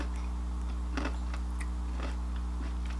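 Close, crunchy chewing of small Japanese potato-flavoured snack rings, a few sharp bites and crunches spaced out over a steady low hum, quiet and without talk.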